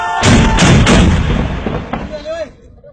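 Several loud, close mortar rounds fire in quick succession during an army firing exercise, each blast booming and then rolling away into a fading echo.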